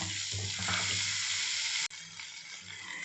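Raw banana pieces are stirred with salt in a pan over a continuous soft frying hiss, with a spoon scraping and mixing through them before a brief cut, after which the quieter sizzle carries on without talk.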